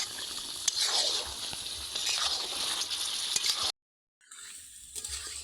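Mutton being fried down (kosha) in a pan gives a steady close sizzle with stirring scrapes, cut by a brief silent gap before the sizzling resumes.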